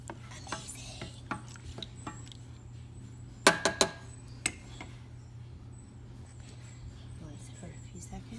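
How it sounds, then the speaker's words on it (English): Melting chocolate chip mixture being stirred in a pan, with a soft scraping swirl over a low steady hum, broken by a quick cluster of sharp utensil clinks against the pan midway and a single later tap. "Yet I have to stir because I don't want it to stick to the pan."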